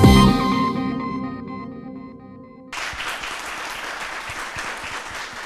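Audience applause at a youth civic event at the Plateau town hall, breaking out loudly after a sustained musical chord fades, a dense continuous wash of clapping that carries on steadily to the end.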